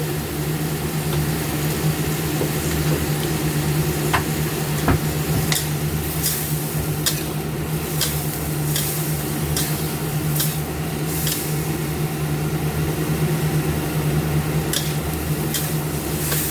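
Vegetables stir-fry in a pan with soy sauce, giving a constant sizzle broken by sharp, regular clicks and scrapes of a spatula against the pan.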